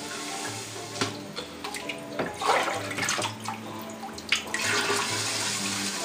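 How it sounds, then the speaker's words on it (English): Cleaner is poured into a beer keg, a close splashing, gurgling liquid stream with bursts and trickles over a faint steady hum. "I'm going to pour some cleaner into the keg."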